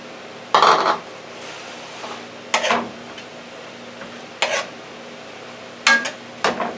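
Onions and celery for homemade stuffing cook in a pan, heard as a run of sharp stirring and scraping clatters spaced a second or two apart over a quiet, steady background.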